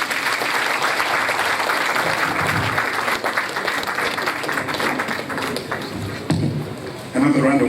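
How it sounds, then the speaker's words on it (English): Sustained audience applause at a grand finale ceremony marking sixty years of television in Africa, a dense steady wash of clapping that swells louder near the end, with a voice speaking over it. "Another round of applause, please"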